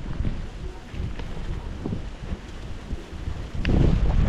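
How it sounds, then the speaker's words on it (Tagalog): Gusty wind on a farm buffets the microphone with low rumbling bursts that swell and fade, growing stronger near the end. "medyo mahangin na dito sa farm"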